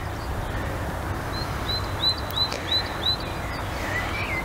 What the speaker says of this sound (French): On a les encouragements de tous les oiseaux du parc.